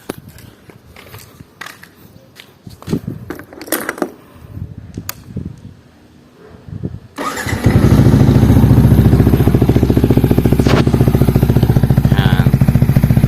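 A Yamaha Sniper 155 motorcycle with an adjustable MBR1 exhaust pipe set full open starts up after some scattered clatter and handling noises, then settles into a loud, steady, throbbing idle close by.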